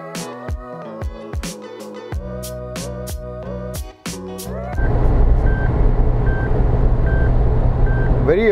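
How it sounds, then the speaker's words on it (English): A car's speed warning chime beeps steadily at regular intervals over loud engine and road roar at about 120 km/h, after a stretch of rhythmic music. "the constant beeping, the constant chiming that is unavoidable in cars these days"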